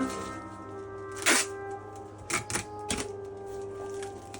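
Adhesive packing tape pulled and pressed onto a cardboard box holding a trombone, giving a few sharp ripping bursts near and clear, with a steady low hum behind.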